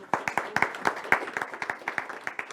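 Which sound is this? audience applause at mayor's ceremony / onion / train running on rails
audience applause at mayor's ceremony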